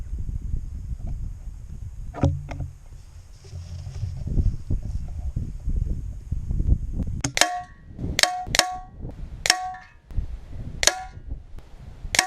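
A Genesis Air Logic air rifle (Blue print model) fires about six sharp, close cracks at uneven intervals toward a target, following a quieter stretch of low background rumble.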